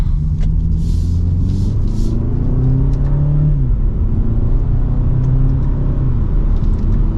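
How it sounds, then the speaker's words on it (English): A 2023 BMW 228i Gran Coupe M Sport in sport mode pulls hard from second gear, its engine note climbing steadily, dropping briefly at a smooth upshift, then rising again, loud and close with no talk. "we're gonna pop it back into sport mode because we'll do another acceleration from second gear"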